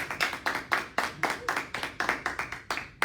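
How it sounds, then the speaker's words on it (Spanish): A church congregation clapping together in a fast, even rhythm, with about four sharp claps every second ringing in a reverberant room and no voices over them. "Dale un aplauso al Señor."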